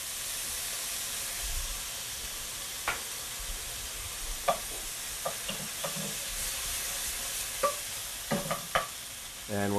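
Diced porcini mushrooms sizzle and fry in a hot pan while being stirred, with a steady hiss broken by scattered clacks and scrapes of the utensil.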